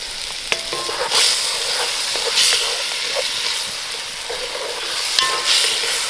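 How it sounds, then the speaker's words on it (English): Wine poured into a cast iron Dutch oven over an open fire during a snowstorm, sizzling and hissing steadily with stirring and scraping scuffs and a few sharp spits, close and fairly loud, no talking. "I'm just gonna kind of deglaze the pan with some wine"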